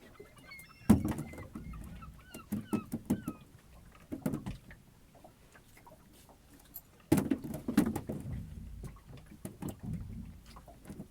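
Seagulls calling beside a fishing boat hauling herring and pilchard nets, several sharp squawking cries in two bursts over splashing, clattering deck noise and a low engine hum.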